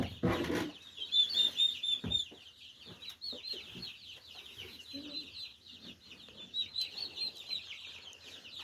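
Chickens cluck and chicks peep continuously in a close, busy chorus, with a few louder knocks and handling noises at the start and around two seconds.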